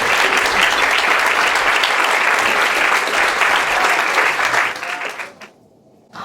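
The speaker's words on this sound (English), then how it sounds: "A round of applause." Sustained audience applause at a committee gathering of nearly 200 guests, loud and dense for about five seconds before fading quickly to near silence.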